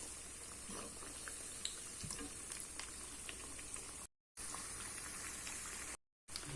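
Chickpea vadas sizzle and crackle steadily in hot oil over a medium flame, a dense continuous frying hiss with small pops and no talking.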